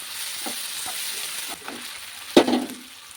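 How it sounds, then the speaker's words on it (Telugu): Onions fry in a pan until golden brown, giving a soft continuous sizzle with occasional stirring scrapes and one louder clatter near the end, no talking. "ఈ గోల్డెన్ బ్రౌన్ కలర్ వచ్చే వరకు మనం ఉల్లిపాయలను ఫ్రై చేసుకుంటూ ఉండాలి"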